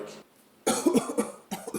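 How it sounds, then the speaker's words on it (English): A run of coughs close up, several rough bursts in a row, then a short pause and two more quick coughs. "it sounds like you're coughing"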